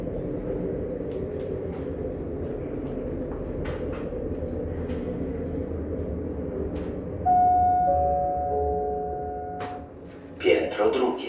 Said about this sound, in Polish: Winda jedzie w dół.